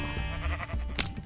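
A sheep in the video game Minecraft gives a short, clear bleat lasting about a second, with no talking.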